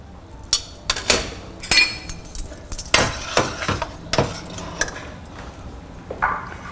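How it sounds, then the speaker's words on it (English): A cooking pot is brought over and handled in a kitchen during crème brûlée preparation, producing a steady run of close metallic clinks and clanks, like pans and utensils knocking together, with no talk. "Let me bring over the pot."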